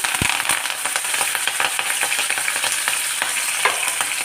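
Onions and green chillies fry in a pan for traditional rice-buttermilk mor kali, giving a loud, close, continuous sizzle dotted with small crackles and pops, with no voices.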